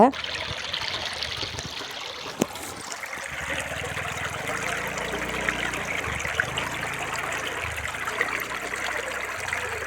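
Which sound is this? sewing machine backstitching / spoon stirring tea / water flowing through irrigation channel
water flowing through irrigation channel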